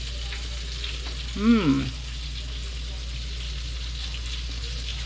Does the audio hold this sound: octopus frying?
yes